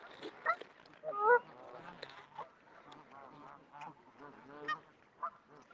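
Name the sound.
birds honking at a park pond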